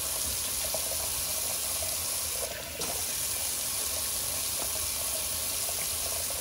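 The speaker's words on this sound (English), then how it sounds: "Now I'm going to just quickly do a quick rinse of the Alum." Tap water runs steadily into a sink to rinse an alum block after a wet shave, a continuous close hiss with a brief dip in flow partway through.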